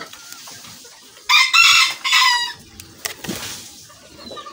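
A rooster crows on a chicken farm: two loud, close crowing calls in quick succession, with scattered clucking and soft farmyard noise before and after.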